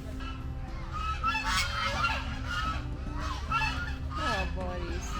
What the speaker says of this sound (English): like these ducks and geese.